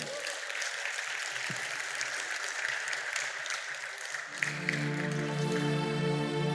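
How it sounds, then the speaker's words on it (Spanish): A church congregation gives loud, sustained applause, a dense wash of clapping that gives way partway through to a swelling music chord that keeps going to the end. "Fuerte aplauso"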